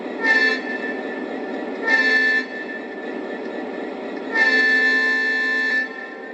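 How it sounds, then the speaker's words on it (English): Lionel Polar Railroad SD80MAC model train horn quilling in three blasts, two short and one long, each a steady bright electronic tone, loud and alone over a faint background hum. "There's also real-time quilling horn control."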